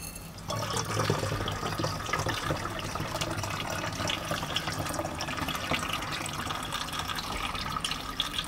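Electroforming solution pours steadily through a funnel into a tank, a continuous liquid trickle and splash running the whole time with no talking.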